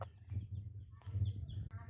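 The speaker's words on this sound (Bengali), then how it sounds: "এটা এখানে আমি 6টা হাঁসের বাচ্চা পালি" Six ducklings kept on a rooftop give soft, low, repeated calls close by in a brief, continuous run.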